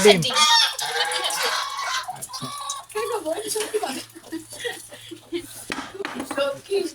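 A brooding hen sitting on eggs clucks close by in a rural home, short repeated clucks mixed with people talking and a few clinks of pots.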